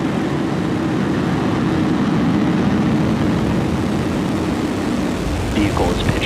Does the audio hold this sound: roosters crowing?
no